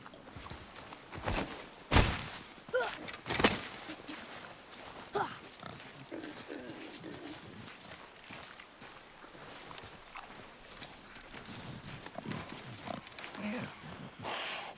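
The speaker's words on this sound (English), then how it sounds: "Boy, I hear your animal ahead. I knew it was a boar." A wild boar in God of War grunts and snuffles somewhere ahead, the grunts mixed with heavy thuds and footsteps on the ground, all fairly faint and set under the game's ambient sound.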